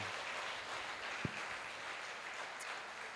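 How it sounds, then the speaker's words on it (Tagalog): A church congregation clapping in praise of the Lord, steady, dense applause from many hands filling the room and holding at an even level throughout, with no voices standing out above it. "Palapakan natin ang Panginoon."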